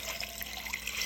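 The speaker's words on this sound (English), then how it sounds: "I'm going to fill this pot up with water" Tap water runs into a 5-quart pot of dry beans, a faint, steady hiss and bubbling gurgle of filling liquid over about a second, without talk.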